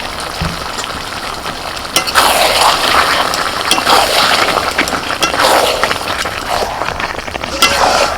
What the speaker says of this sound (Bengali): কষাতে কষাতে চিকেনটা পুরো একদম সিদ্ধ হয়ে গেছে